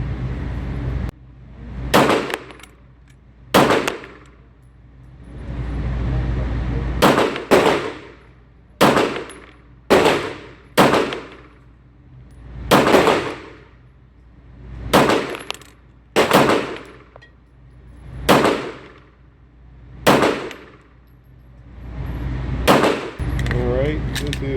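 Gunshots from a Staccato P pistol ring out at an outdoor range, loud sharp reports in spaced bursts, some in quick pairs and others several seconds apart, each followed by a short echoing decay, with occasional talk between strings.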